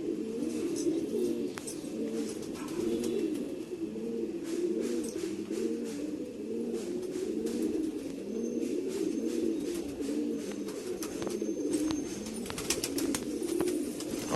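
A flock of unspotted domestic pigeons coos continuously in overlapping, rhythmic throaty calls, close and steady, with no talk.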